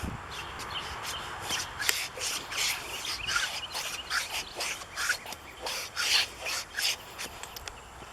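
Surface rust is rubbed off a railroad rail with repeated rhythmic scraping strokes, close and moderately loud, each stroke a short gritty rasp, with faint birdsong outdoors in the background.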